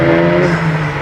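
A VW MK7.5 GTI fitted with an AWE exhaust revs up close and loud, a sustained engine drone with a steady low tone that eases slightly toward the end.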